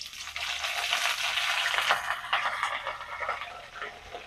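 Curry leaves and a little fenugreek sizzle in hot sesame oil for a Jaffna fenugreek curry, a steady bright crackling hiss that rises and flickers with no talking over it.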